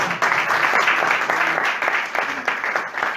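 An audience breaks into applause, a dense, steady wash of clapping from many hands at moderate distance with a faint voice underneath.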